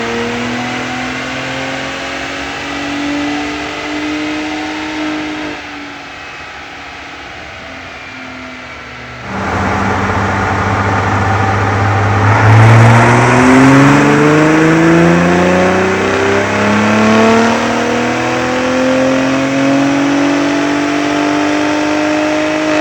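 Gen 3 Ford Raptor truck engine running loud on a Mustang dyno, steady roar that dips briefly then surges into a hard rising pull with climbing revs, continuing strong to the end.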